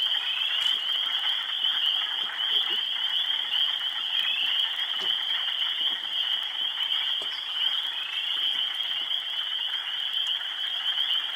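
Spring peepers call from a Michigan wetland near a boardwalk, a dense, continuous chorus of high, shrill peeps that sits fairly close and stays steady throughout, with no voices over it.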